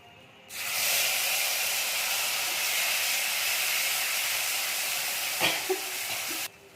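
Cumin seeds and spice paste hit hot oil for a spicy pabda fish curry, setting off a loud, steady hiss of sizzling that starts abruptly and holds evenly before cutting off, with no voices.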